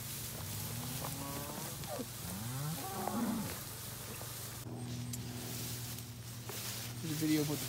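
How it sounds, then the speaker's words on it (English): Dry cows and heifers on a farm moo repeatedly as they walk over to new pasture, with several drawn-out calls close by over a steady low background hum. "There's cows walking over to their new pasture."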